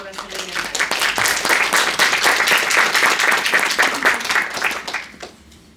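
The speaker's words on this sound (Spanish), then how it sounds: "les pido un aplauso" Audience applause greets a guest speaker, a doctor, at a sociology book presentation: steady, dense clapping from a room full of people for about five seconds, close and loud, then fading out.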